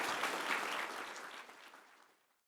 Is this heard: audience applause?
yes